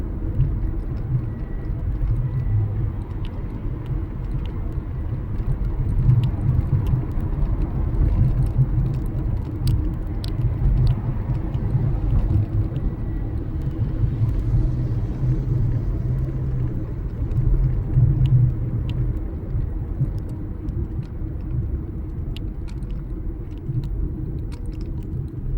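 Car engines rumbling steadily in slow road traffic approaching a stoplight, a continuous low drone heard from inside a vehicle with no talk.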